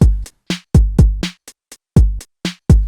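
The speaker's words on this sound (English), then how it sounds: "I added this drum group right here, which is a drum rack, which is playing 808 samples" Electronic drum rack playing 808 samples in a punchy pattern: booming sub kicks with sharp attacks and short decays, alternating with snappy hits and brief clicks, loud and dry with clean silent gaps between hits.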